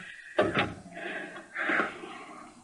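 A door-closing sound effect from a 1982 radio drama: a sharp wooden knock opens it, followed by shuffling and rustling, then another abrupt thump at the very end.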